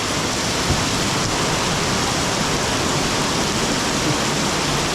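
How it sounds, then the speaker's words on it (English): Heavy rain pours down steadily in a narrow alley in Macau, a dense, constant roar of drops, loud and close, with no voices. "Oh man, this is just pouring"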